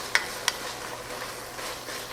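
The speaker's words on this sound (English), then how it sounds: "We're going to stir this around for 30 seconds to a minute" Minced garlic sizzling in a pot as it is stirred, a steady close hiss of frying with two quick utensil clicks near the start.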